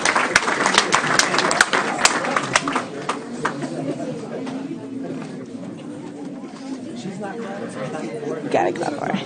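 Audience clapping for Scholar Champion Award winners at a school board business meeting, a burst of many hands clapping at the start that thins into scattered claps under chatter and a speaking voice.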